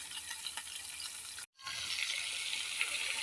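Fish, likely snakehead, sizzles as it fries in a pan, a steady hissing crackle that cuts out for a moment and then resumes.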